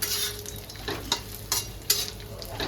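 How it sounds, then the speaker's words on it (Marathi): Grated coconut roasts in hot oil in a pan while being stirred, with a steady soft sizzle and repeated scraping strokes of a spoon at a slow, regular pace, close and alone. "आता याचं खोबरं थोडंसं भाजून होईल"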